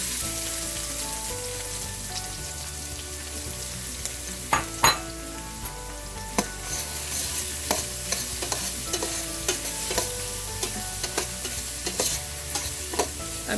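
Onions sautéing in a pan for a spicy Chettinad fish and drumstick curry, with a steady close sizzle broken by sharp clinks and scrapes of a spoon stirring against the pan.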